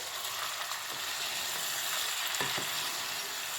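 Tomatoes added to spiced meat with cumin powder frying in a pot for Peshawari namkeen gosht produce a steady, loud sizzle with a few scraping stirs of a spoon, heard alone without talk.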